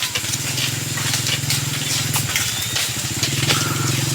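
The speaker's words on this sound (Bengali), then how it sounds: "মোটরসাইকেল নিয়ে একটা লোক আইতেছে" A motorcycle engine drones steadily and loud throughout, a continuous low throb that shifts slightly as the bike approaches along a track through a Malaysian jungle sheep farm.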